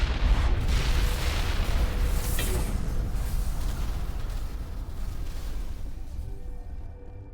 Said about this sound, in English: Bomb's gonna go off here.